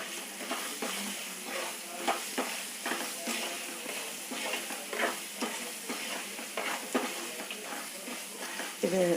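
Shallots sautéing for sambar: a steady sizzle in the pan with intermittent scraping stirs and faint clinks, close and moderately loud throughout, no talk.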